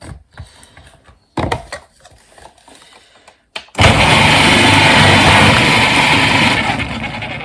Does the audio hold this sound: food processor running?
yes